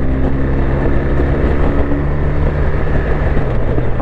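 A BMW R1250 RT motorcycle engine pulling under acceleration, a steady deep drone with a low tonal hum and heavy wind rush over it, loud and constant for a few seconds.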